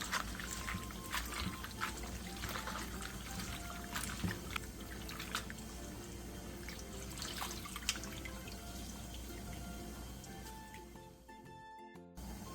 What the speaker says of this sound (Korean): 호박꼬지는 물에 2번 정도 벅벅 문질러가며 씻어낸 뒤 물기를 꼭 짜주세요